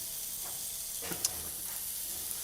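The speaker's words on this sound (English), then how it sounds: "We're dry frying these because the oil will come out of the chorizo." Steady, soft sizzling of prawns and chorizo dry frying in a pan, with a brief louder crackle partway through and no voices.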